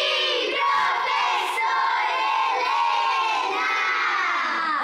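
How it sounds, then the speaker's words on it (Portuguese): A class of children shouts an answer together in a loud, sustained burst of overlapping young voices, filling the room with no pause. "Não precisam gritar pra responder, eu não sou surda."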